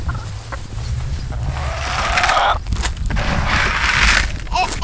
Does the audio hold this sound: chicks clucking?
yes